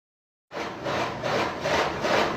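A grain drag auger running after a motor retrofit starts abruptly and keeps up a steady, loud grinding rasp with a slow pulsing rhythm, close by and with no voices.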